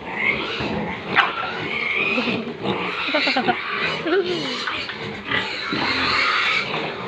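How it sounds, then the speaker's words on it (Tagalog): A pig being fed on a backyard farm gives rough snorting grunts in short bursts among other animal noises, close and fairly loud, while people talk throughout. "Ito ang aming baboy."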